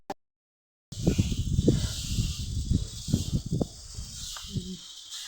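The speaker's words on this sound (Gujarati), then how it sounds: "અત્યારે રીમઝીમ વરસાદ આવી રહ્યો છે." A soft, steady hiss of light drizzle fills the air after a short silence, with occasional low thumps and faint rustling nearby.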